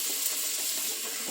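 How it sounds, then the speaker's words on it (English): Tap water runs into a sink while food for potato soup is rinsed, a brief steady close splashing hiss with no voices. "we're going to get these rinsed here"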